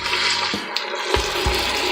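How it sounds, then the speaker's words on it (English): Water pours steadily into an Instant Pot while onions are being cooked for scalloped potatoes, a continuous splashing fill with a brief dip and a few louder gushes, close and alone. "I'm going to now add some water"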